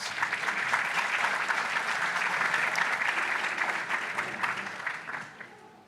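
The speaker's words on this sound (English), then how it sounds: "Another round of applause." Audience applause at a conference on authoritarian influence, as a speaker is welcomed to the stage; dense, steady clapping from a sizable crowd that holds for several seconds, then tapers and fades near the end.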